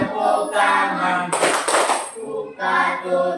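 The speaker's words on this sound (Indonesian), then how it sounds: "Bertepuk tangan." A group of children clap their hands during a classroom action song, a dense burst of claps lasting under a second between stretches of singing.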